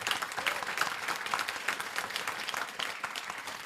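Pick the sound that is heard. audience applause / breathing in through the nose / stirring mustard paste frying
audience applause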